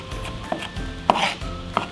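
Knife chopping an onion on a cutting board, a few sharp separate chops with short pauses between them, close and clear, with no voices.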